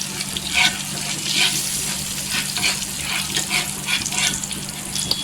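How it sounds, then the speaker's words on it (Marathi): Red chilli and turmeric powder masala is stirred in a hot tawa pan, giving a continuous sizzle with scraping strokes throughout, close and fairly loud, with no talking. "अर्धी चमचा हल्दी पावडर टाकायची आणि मिक्स करायची"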